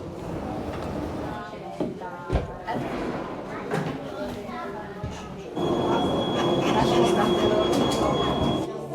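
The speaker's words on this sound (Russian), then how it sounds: "Эта станция фуникулёра даже довольно-таки приличная снизу." A funicular train runs at a station near the Vomero hill in Naples, Italy, with a steady rolling rumble, rail noise and a sustained high-pitched wheel whine in the second half, under people talking nearby.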